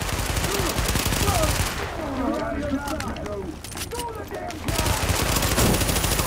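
Gunfire in The Division, bursts of rapid automatic shots cracking loudly at the start and again near the end, with a quieter stretch of scattered shots and mechanical noise between, while a voice shouts over the action.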